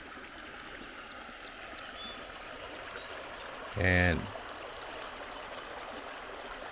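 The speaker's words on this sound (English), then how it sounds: "there it goes, the Mississippi River" Mississippi River flowing at its headwaters in Minnesota, a soft steady trickle of water over stones running throughout, with a brief louder burst near the middle and a single spoken word.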